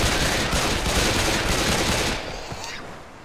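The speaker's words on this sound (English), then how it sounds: "Can you hear my pistol now?" Rapid pistol gunshots from Left 4 Dead 2 come as a dense, loud stream of shots amid chaotic game noise, then thin out toward the end.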